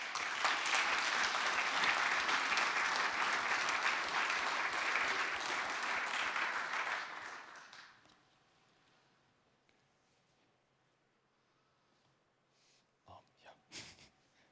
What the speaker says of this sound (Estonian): saadame talle siit suure aplausi